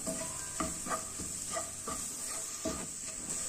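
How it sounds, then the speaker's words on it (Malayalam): Cooked chickpeas going into a chana masala in a pan, with a steady close sizzle and hiss broken by repeated stirring scrapes and spoon clatter, no voices. "ചന ഇതിലേക്ക് ചേർക്കാം"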